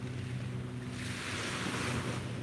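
Calm ocean waves wash steadily onto a beach at sunrise, a soft continuous surf with some wind rumble on the microphone.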